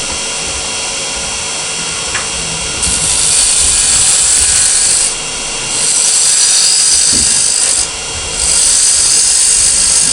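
Roughing gouge cutting a wood blank on a lathe into a cylinder during a woodturning club demonstration: a steady motor hum under bursts of loud, hissing scraping as the tool bites, with a brief pause between passes.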